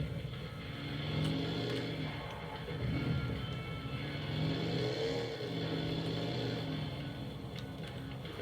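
A car engine drones steadily while driving in the mobile battle royale game PUBG Mobile, a continuous mid-pitched hum that rises and falls slightly as the vehicle accelerates.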